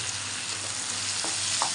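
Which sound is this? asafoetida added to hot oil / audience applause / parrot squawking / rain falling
asafoetida added to hot oil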